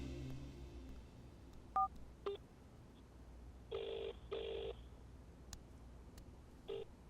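Several short touch-tone beeps from a telephone keypad as a number is dialed in a quiet indoor scene, spaced irregularly with a few longer tones, clear and close.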